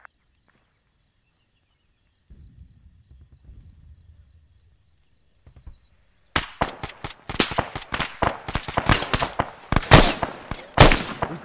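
Rapid gunfire from soldiers engaging targets in the military shooter game ArmA 3, a dense burst of sharp cracking shots that starts suddenly after a quiet stretch with faint low rumble and keeps going loud and close.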